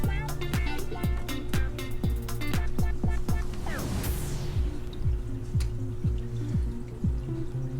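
An aquarium air pump running, with a steady low mechanical hum under a regular stream of bubbling, dripping clicks. It sounds close and continuous throughout.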